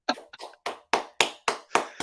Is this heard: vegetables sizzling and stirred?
no